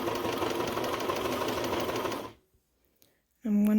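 A serger sewing machine stitches a sweater knit romper at a steady, rapid whir for about two seconds, then stops abruptly; a voice begins speaking after a short pause.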